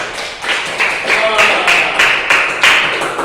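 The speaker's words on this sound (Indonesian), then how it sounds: "Tepuk tangan dulu untuk jawaban semuanya" Students in a maths classroom applaud their answers, a run of quick broadband claps with regular bursts across the whole stretch, close and fairly loud.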